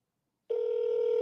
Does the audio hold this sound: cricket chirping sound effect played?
no